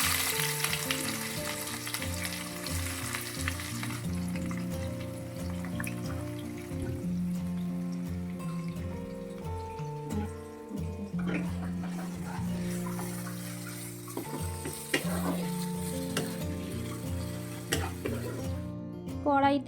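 Pieces of duck meat sauté in hot oil in a wok (kadai), a steady frying sizzle with scraping stir strokes and a musical tone running underneath, fairly loud and continuous throughout.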